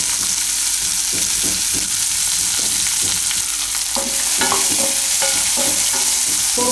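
Onion fries in a pan for dahi poha, a loud, constant close sizzle with repeated scraping and tapping of a spoon as it is stirred.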